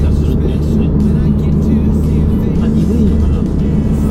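A Honda AP1 car with a 2000cc engine hums steadily while driving, a low continuous drone under road noise with faint interior rustle and no clear voices.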